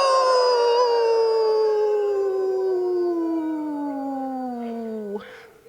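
Several voices imitate a wolf howl together in a nursery setting, one long sustained falling howl lasting about five seconds, loud and close, ending with a short break.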